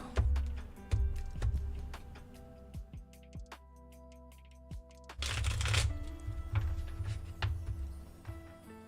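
Tarot cards are shuffled in quiet, irregular bursts of soft riffling and tapping, close and faint, with a louder flurry of shuffling midway.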